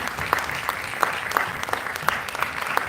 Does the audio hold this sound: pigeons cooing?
no